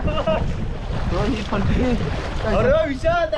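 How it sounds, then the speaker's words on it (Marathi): Strong wind roars steadily against the microphone, with a person talking loudly over the gusts. "जोरदार वारा सुटलेला आहे तुफान सुटलेला असंच म्हणावं लागेल"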